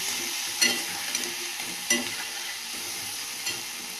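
Leafy greens (shak) stir-fry in a pan under a steady hiss, while a spatula scrapes and knocks against the pan every second or so.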